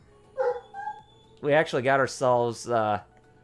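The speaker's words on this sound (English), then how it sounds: "I do apologize if you can hear the dogs barking" Dogs bark and yip in the background, a few short high barks followed by a run of louder whining, howling yelps, all over a low hum.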